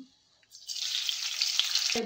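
A soft hiss rises into steady, broad sizzling as ghee heats in a hot pan, continuous and fairly quiet, with a faint clink near the end.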